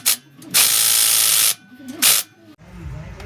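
Rapid ratcheting bursts from a 19 mm socket ratchet loosening the strut bolts on a Corolla XRS, two long clicking runs close up, separated by quiet gaps, ending in a lower rustling handling noise.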